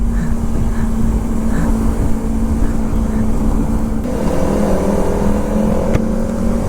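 A Kawasaki Ninja ZX-25R motorcycle rides along a rural road in Japan, its engine a loud, steady drone mixed with heavy wind noise close to the rider.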